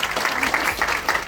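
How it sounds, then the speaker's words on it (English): A campus audience of incoming MBA students applauds to welcome a speaker. A short, steady wash of many hands clapping lasts just over a second, broad and continuous with no voices above it. "Please give a huge round of applause and welcoming."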